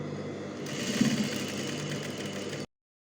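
A sewing machine stitches a seam over the elastic waistband of trousers, a steady close mechanical whir running evenly for over two seconds before stopping abruptly.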